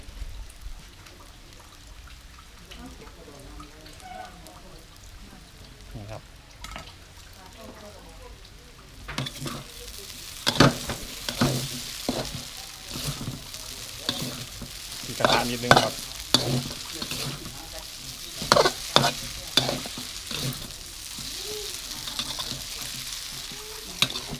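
Instant noodles with dried chillies sizzle quietly in a pan, then a metal utensil scrapes and clatters rhythmically against a wok as stir-frying picks up.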